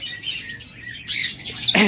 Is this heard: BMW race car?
no